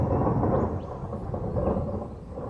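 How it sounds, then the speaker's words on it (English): Low rolling thunder from a storm, a steady deep rumble that swells and fades, with faint rain behind it, distant and fairly quiet. "thunder."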